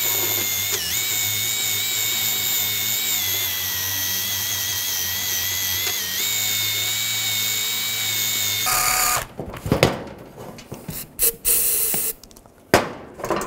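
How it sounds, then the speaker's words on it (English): Power tool with a wire brush scrubbing corrosion from a water pump housing on a 2010-2017 Chevrolet Equinox: a steady whining spin for several seconds, then a series of rough, choppy grinding bursts up close. "If you have some wire brushes, you can use a wire brush."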